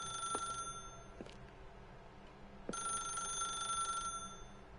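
A telephone in The Stanley Parable rings in two separate bursts of bright electronic bell tone with a pause between, set against quiet ambience and a few soft clicks.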